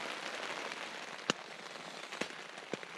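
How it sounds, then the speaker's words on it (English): Rain falling on a camping tent fitted with a rainfly, a steady soft patter of drops on the fabric with a few sharper, louder drips standing out now and then. "Well, it's 7 a.m. and it is still raining."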